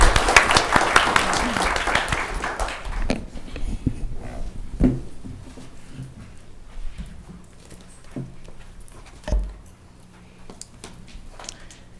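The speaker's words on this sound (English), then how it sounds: "Let's give her a round of applause" Applause at a county board of commissioners meeting, a dense burst of clapping in the first few seconds that thins into scattered claps and room noise as the mayor comes up to speak.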